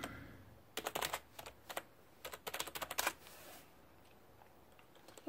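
Someone types a password on a computer keyboard, quick bursts of close, crisp key clicks separated by short pauses in an otherwise quiet room.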